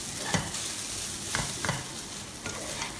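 Stir-frying in a wok while making Thai sweet fish sauce: continuous close sizzling with repeated scraping and tapping strokes of the spatula against the pan.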